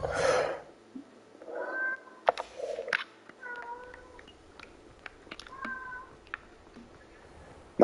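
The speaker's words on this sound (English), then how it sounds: "My cat will not stop meowing." A house cat meows repeatedly during a Hogwarts Legacy gaming session, a series of short, tonal calls with varied pitch spread across the clip, fairly close and moderately loud, mixed with faint game sounds and brief clicks.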